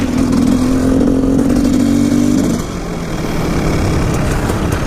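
A motorcycle engine drones steadily at a constant pitch, then drops to a lower rumbling idle halfway through, close and loud.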